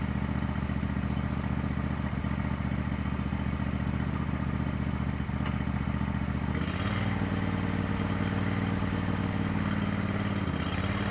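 A 2004 Troy-Bilt 809H garden tractor's engine runs steadily up close with a low droning hum, its pitch stepping down and then back up as the throttle is shifted.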